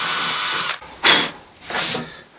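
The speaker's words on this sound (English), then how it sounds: "So drill bit that's exactly the right size just to clean the inside." Power drill spinning a bit through existing holes in an old bentwood bench to clean them out, three loud close bursts of whirring separated by short pauses.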